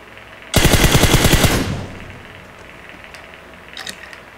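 A burst of automatic gunfire from a weapon in PUBG Mobile, about a second of rapid loud shots, followed by a faint distant shot or two near the end.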